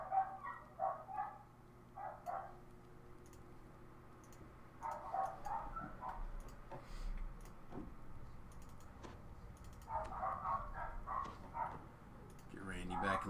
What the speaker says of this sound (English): Jeez, dogs. What is going on?